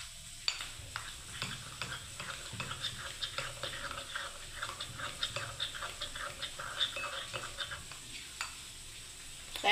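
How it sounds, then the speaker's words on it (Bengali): A mixture for bread custard pudding being whisked in a bowl, with rapid, light, continuous clicking and tapping strokes close by, fairly quiet and steady. "ভালো করে আমি ফেটিয়ে নিচ্ছি বন্ধুরা"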